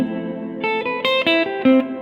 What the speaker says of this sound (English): Very nice warm reverb there.